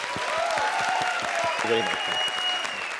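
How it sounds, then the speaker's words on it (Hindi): A studio audience at a Hindi comedy show breaks into steady, dense applause that holds evenly throughout, with faint tonal music or voices layered underneath. "एक बार जोरदार तालियां श्री के लिए"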